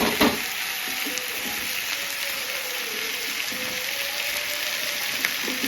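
Chicken pieces fry in a pan as the base for a stew, giving a continuous, even sizzle close by with no voices.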